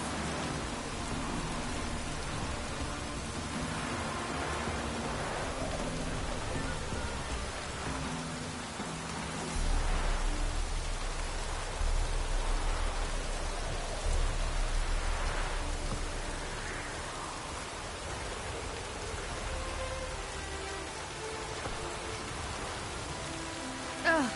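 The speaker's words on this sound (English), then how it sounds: "Rain again." Steady rain pours down in a continuous broadband wash, swelling a little louder in the middle, with a faint low rumble underneath and no voices.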